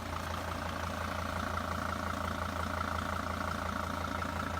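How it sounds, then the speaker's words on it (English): A diesel engine idles in a 2007 Winnebago View 23H motorhome, giving a steady, even rumble with a faint rapid chatter throughout, close and unbroken, with no voices. "just wanted to give everybody a chance to listen to that engine purr."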